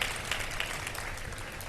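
Studio audience on a live Ramadan iftar television show giving a short burst of steady applause, dense and even throughout.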